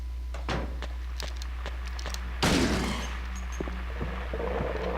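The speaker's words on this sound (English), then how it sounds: "we're just gonna gun those guys down" Gunfire in Silent Hill 2, a few sharp shots early on, then one loud booming blast midway with a decaying tail, over a constant low hum.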